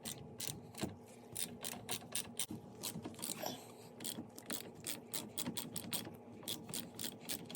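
A hand ratchet clicks in quick repeated bursts while loosening a front brake caliper bolt on a Polaris Ranger, close and fairly quiet, with brief pauses between strokes and some metallic rubbing.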